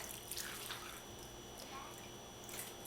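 Dye water mixed with vinegar being poured into a pan over fibre roving, faint trickling and dripping with a few soft splashes, quiet and close.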